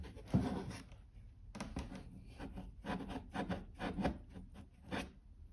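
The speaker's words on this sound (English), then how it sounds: "you can start working some of that stupid rust off." Wire brush scrubbing rust off a metal tool box in close, quiet detail: bursts of rough rasping strokes, a brief pause, then a steady run of short repeated scrubs, with no talking.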